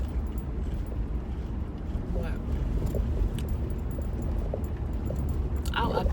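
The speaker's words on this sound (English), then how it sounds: "Sorry it's bumpy, I'm driving." Car interior while driving on a bumpy road, with a steady low engine and road rumble, occasional rattles and jangling, and people talking over it.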